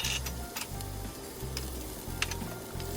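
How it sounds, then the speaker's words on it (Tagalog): Garlic and scallion whites sautéing in hot oil in a pan, a steady close sizzle with a few light clinks and scrapes as the pan is stirred, no voices. "at mag-a-add ako ngayon ng oil sa aking pan. At i-saute ko na ang ating garlic, scallions, yung white part"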